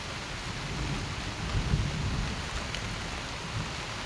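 Steady rain pouring down during a storm, a dense constant hiss of drops on surfaces with a low rumble of thunder swelling briefly in the middle; no voices.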